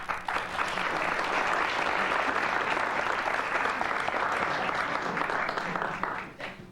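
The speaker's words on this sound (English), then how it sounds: "About half of our New York audience applauds that decision." About half of a New York studio audience at a 1993 talk show applauds, a loud sustained burst of clapping that holds steady and then tapers off quickly at the end.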